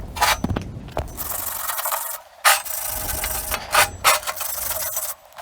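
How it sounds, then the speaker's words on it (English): A wire brush scrubs flux-core weld spatter off steel in several bursts of scraping and rubbing, with short pauses between strokes, close and moderately loud with no talking. "I'm going to take a wire brush, clean it off, and see what BBs are stuck on there."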